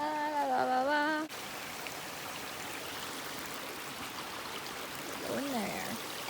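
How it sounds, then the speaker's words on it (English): A stream rushes steadily at a river crossing on a wooded hiking trail near Clarion, Pennsylvania, a close continuous wash of water, with a brief tonal sound at the start and a short voice near the end. "So we're coming to our second river crossing."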